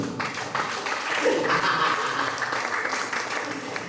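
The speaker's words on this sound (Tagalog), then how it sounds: "Palampakan natin si Lord." A church congregation claps for the Lord during a sermon, steady moderate applause from a crowd that swells briefly in the middle and then settles, heard with no talking.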